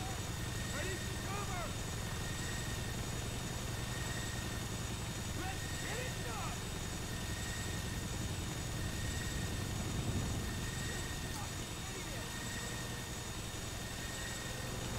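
Police helicopters in Grand Theft Auto V hover with a steady, droning rotor and engine rumble under a continuous noisy bed, with faint chirpy game effects scattered over it and no spoken voices.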